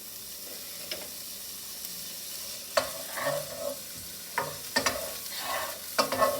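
Prosciutto hits hot, shimmering oil and sizzles at a moderate level, with several sharp clinks and scrapes of stirring in the pan and no talking.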